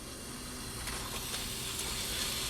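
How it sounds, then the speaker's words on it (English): Butter sizzles in a small raclette pan heated by tealight candles, a faint, steady close-up hiss with light crackling pops and no voices. "I'm hearing a lot of sizzling going on here."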